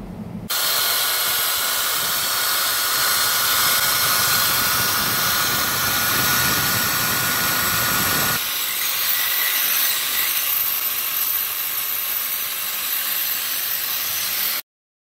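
Power tool polishing an object runs as a continuous loud whine and rush, its tone shifting partway through and cutting off sharply at the end, with no talking.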